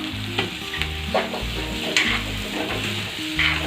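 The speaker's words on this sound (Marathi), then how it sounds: "हे छान परतून घेऊया." A gram-flour zunka mixture with turmeric and salt is sautéed in a pan, giving a steady close sizzle with light stirring scrapes over rhythmic low background music.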